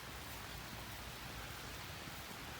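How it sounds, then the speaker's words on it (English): Heavy rain pouring outdoors at a Civil War battlefield hill, a dense, steady hiss of downpour with no pauses, fairly faint and even. "it is fucking piss pouring raining out"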